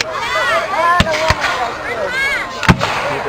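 Several sharp cannon reports at a Civil War reenactment punch through a busy outdoor scene with excited, overlapping voices. Three short booms stand out, one early, one in the middle and one late.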